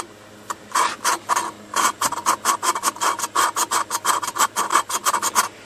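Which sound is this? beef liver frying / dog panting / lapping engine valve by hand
lapping engine valve by hand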